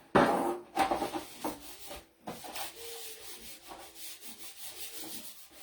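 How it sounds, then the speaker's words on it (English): Dollar Tree sanding block rubbed along the edges of a painted Christmas church and lantern craft, close, repeated scratchy strokes with an uneven rhythm, starting loud then softer. "Now let's sand this off. The edges."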